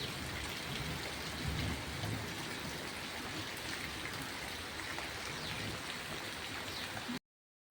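Steady, dense rain falling continuously, a constant hiss that stops abruptly at the end.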